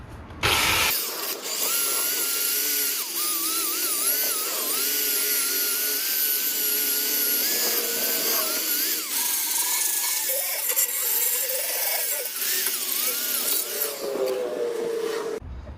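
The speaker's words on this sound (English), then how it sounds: "we're going to give this a good clean, a really good clean with the wire brush and some brake cleaner" A wire brush scrubs a BMW 525i E60 front brake hub with brake cleaner, giving steady close scratching and rasping strokes for about fifteen seconds, with no talking.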